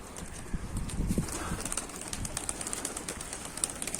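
Ayna kuyruk (mirror-tail) pigeons flutter and coo outdoors, faint wingbeats and soft calls scattered among light background noise, with a few brief sharper flaps standing out.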